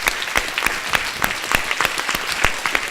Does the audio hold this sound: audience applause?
yes